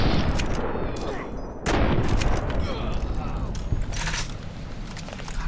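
Rifle fire in a video game crackles in dense, loud bursts, with sharp repeated shots and a heavier blast partway through, while a voice talks over the action.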